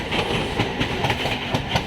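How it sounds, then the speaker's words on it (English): An EMU local train, the Krishnanagar Staff Special bound for Dum Dum Junction in West Bengal, rushes past close by with a steady loud roar and rhythmic clickety-clack of wheels over rail joints, no voices. "Krishnanagar Staff Special EMU Local towards Damdam Junction."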